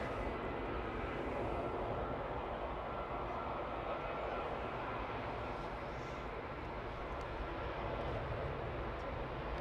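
A TUI airliner departing Manchester Airport for Antalya gives off a steady, broad jet roar that holds level throughout, distant but constant, with no clear rise or fade.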